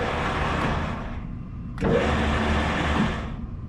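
A wide belt sander's motorised bed whirs along, a steady mechanical drone that dips, then surges after a sharp click and slowly fades, close by and without voices.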